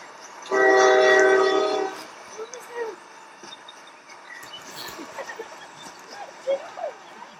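A train blasts a loud sustained horn for over a second, followed by a quieter stretch of rail rumble and scattered clanks, with people talking faintly.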